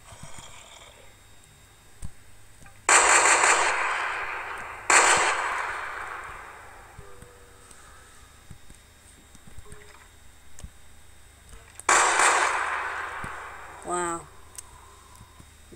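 Assault rifle shots from a Minecraft guns mod, three loud separate cracks with ringing decay spaced several seconds apart, while a person talks between them.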